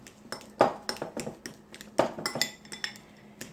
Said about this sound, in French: on va écraser ça à l'aide d'une fourchette